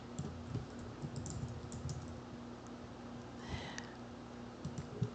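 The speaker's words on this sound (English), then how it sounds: "Let me type it in real quick." Quick bursts of keystrokes on a computer keyboard, light and close, clatter in an irregular typing rhythm over a quiet steady room hum, with no talking.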